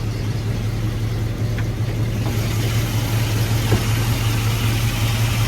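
A car fitted with a Summit crate 350 engine idles steadily with the hood open, a continuous low, even rumble that holds without revving.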